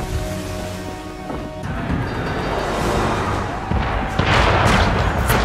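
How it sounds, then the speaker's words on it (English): Mortar fire booms during a battle at Fort Wolcott in the video game Assassin's Creed 3, with heavy rumbling blasts and crashing impacts that swell louder toward the end. "Mortars."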